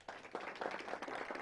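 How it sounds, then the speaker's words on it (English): Audience applause at a campus event welcoming judges, a brief, fairly faint burst of steady clapping. "Give them a round of applause."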